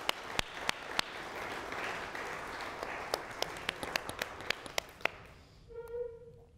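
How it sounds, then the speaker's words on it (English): A small audience claps, with scattered sharp individual claps standing out above the steady applause, which fades out toward the end. "you guys all deserve a round of applause from us"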